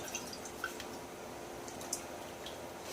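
Water sloshing and dripping as a glass sauce jar is rinsed out in a home kitchen while making spaghetti sauce, with a few soft drips and splashes at a low, close level.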